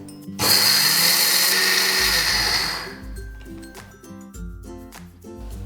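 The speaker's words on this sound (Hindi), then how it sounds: "और अब हम इस मसाले को हल्का दरदरा पीस लेते हैं, बहुत ज़्यादा बारीक हमें नहीं करना है।" An electric spice grinder coarsely grinds pickle spices, starting with a sudden loud whirring buzz that runs for a couple of seconds, then winds down into rattling and clinking as it stops.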